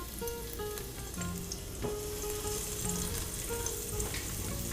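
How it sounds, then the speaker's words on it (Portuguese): Finely chopped garlic sautés in a pan with a continuous close sizzle and hiss, with light stirring scrapes mixed in and no voices. "A gente vai dar só um pouquinho de refogada nesse alho"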